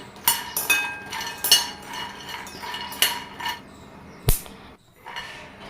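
Cashews and almonds fried over a medium flame in a kadai, heard as a steady run of metallic clinks and scrapes from a spatula stirring against the pan, with sharp taps spaced irregularly throughout.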